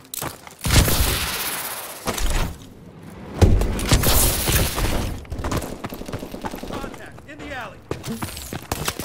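Rapid gunfire from Call of Duty: Advanced Warfare crackles in dense, repeated bursts with heavy thumps, loud and close throughout, while a person talks over the action.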